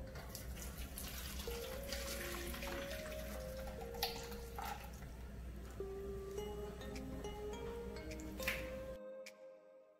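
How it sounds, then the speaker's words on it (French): A hot panna cotta mixture pours through a chinois sieve in a steady trickling, dripping stream of liquid, close and fairly quiet, with a few small clinks before it stops abruptly near the end. "je vais filtrer mon appareil dans un chinois"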